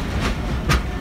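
Pakistan Railway's Marvi Express passing close by, with steady rumbling rail noise and two sharp clacks of wheels striking rail joints.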